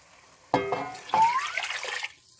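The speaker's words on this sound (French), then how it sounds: "Là, ce que je vais faire, je vais rajouter de l'eau." Water poured into a pot of beef that has been cooking for two hours, heard as a couple of close splashing, gurgling pours with a rising filling tone.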